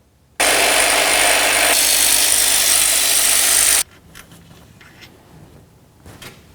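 A loud power tool runs continuously for about three and a half seconds while removing water pump mounting bolts on a 2007-or-later Toyota Tundra, then stops, leaving faint clinks and rattles of parts being handled.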